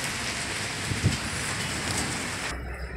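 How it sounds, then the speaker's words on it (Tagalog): Steady rain hisses over the surface of a pigeon loft, a dense continuous wash of falling water with one soft thump, cutting off abruptly near the end. "Ayan, umuulan."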